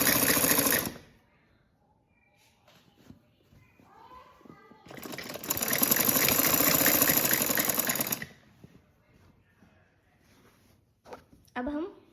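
A sewing machine stitches the folded sleeve of a frock suit in two bursts, a short one at the start and a longer steady whirring run in the middle, with quiet handling noises and speech in the pauses between.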